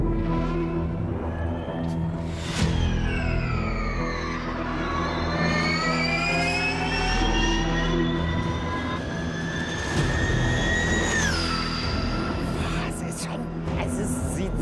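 Porsche Mission R electric prototype race car passing on a track, a rising then falling high-pitched whine sweeping by twice, loud and near, with a voice talking over a steady background rumble.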